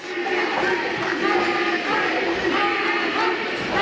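At an independent IWC wrestling show, the crowd keeps up a dense, steady roar of cheering throughout, with voices mixed into the noise.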